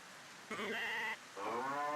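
A sheep from the Harvest Moon video game gives two short, clear bleats in quick succession, the second slightly longer and wavering, close and fairly loud over a faint background hiss.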